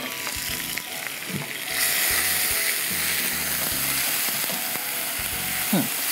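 Onion paste frying in a pan while being stirred, a continuous sizzle that grows louder after two seconds, with scraping stirs and a rhythmic low mechanical hum beneath.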